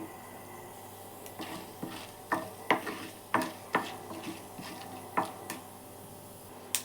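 Mustard seeds and split chana and urad dal pop in hot oil in a pan, a scattered series of sharp crackles and ticks over a faint steady sizzle, moderately quiet and close.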